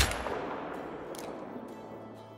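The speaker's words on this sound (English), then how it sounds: "I forgot we're shooting the AR-308 at the black bear" A single loud AR-308 rifle shot in a black bear hunt within the hunting game Call of the Wild, an abrupt crack at the start followed by a long echoing tail that fades away.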